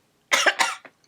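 Two quick coughs and a small third hack from a person just after smoking resin, close and clear with no talk over them.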